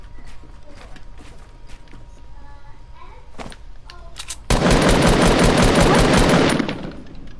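Gunfire in Fortnite: a dense, loud burst of rapid automatic shots lasting about two seconds, preceded by scattered lighter game sounds and footsteps.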